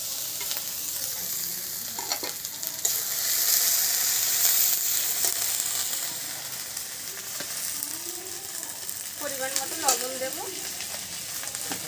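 Ground spices, chili, cumin and garam masala, sizzle and fry in a pan as a steady crackling hiss under occasional stirring scrapes, close and continuous, with no talking.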